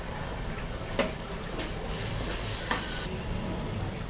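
Tomatoes sautéing with turmeric in a pan, a steady soft sizzle with two sharp clinks of a spoon against the pan.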